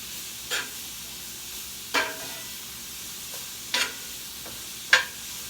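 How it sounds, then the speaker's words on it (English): Onions and bell peppers brown in a pot for Louisiana-style muddy gravy, a soft continuous sizzle broken by four brief scraping stirs. "So you just keep browning it."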